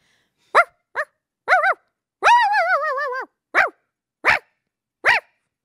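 A person imitates a dog barking, giving a string of short sharp voiced barks and one longer wavering howl-like yelp in the middle, close and loud with silent gaps between each bark.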